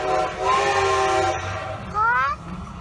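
A train passes close by near the Strasburg Railroad, its horn or whistle sounding in two loud tonal blasts over a steady rolling rumble of the cars.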